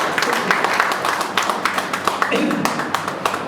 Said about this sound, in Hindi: एक बार भरपूर तालियां आप उनके लिए बजा दीजिए